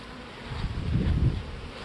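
Honey bees buzz at a hive holding swarm cells, a dense close hum that swells slightly and then eases, with no voices.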